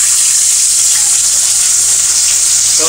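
Steady, loud frying sizzle fills the whole stretch, a dense hiss of dried milkfish crackling in hot oil with no talking.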